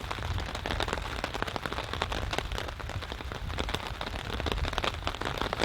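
Heavy rain pours steadily on a campsite in a thunderstorm, a dense, continuous hiss and patter of drops striking surfaces close by, loud and unbroken with no voices.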